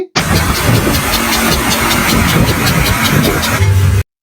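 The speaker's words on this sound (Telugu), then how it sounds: "ఇంజిన్ పిస్టన్ లో ఉండే హైడ్రాలిక్ లిఫ్టర్స్ లో ఇష్యూ ఉంటే సౌండ్ ఇలా వస్తుంది" Car engine with faulty hydraulic lifters running at idle, a dense steady mechanical hum with a fast regular ticking layered on top, close and loud for about four seconds.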